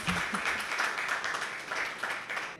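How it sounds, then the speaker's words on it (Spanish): A small audience at a talk on state and technology gives a round of applause for the guest, a short, even patter of clapping at moderate volume with no talk over it. "Les pido un aplauso por favor para Marushka"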